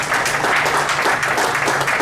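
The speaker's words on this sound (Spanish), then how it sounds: "Den un aplauso al Señor" A church congregation claps during a Spanish-language sermon, a loud, dense and continuous burst of applause filling the room, with a faint low hum beneath it.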